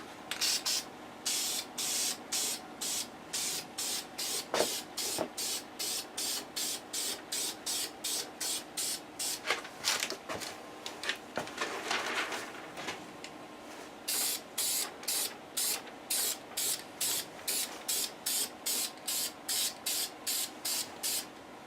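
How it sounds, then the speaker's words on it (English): Spray gun laying the second and final black coat on restored Taylorcraft aircraft parts, a steady run of rapid, evenly spaced hissing bursts close to the microphone, with brief pauses and a few knocks between passes. "let's go ahead and get the second and final coat of black on"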